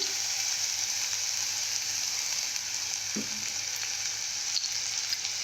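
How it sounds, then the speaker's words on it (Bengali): Ginger and garlic fry in a spoonful or two of hot oil for dosa chutney, a steady, close sizzle hissing continuously with an occasional faint clink of a stirring spoon. "এখানে আদা রসুন দিয়ে ভালোভাবে ভেজে নেব"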